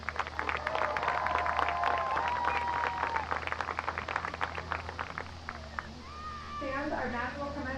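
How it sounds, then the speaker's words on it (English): Senior night crowd at a women's varsity lacrosse game claps steadily for the seniors, a dense patter lasting several seconds, with voices and cheers mixed in before it thins out into talk. "Let's have one more round of applause for all of our seniors."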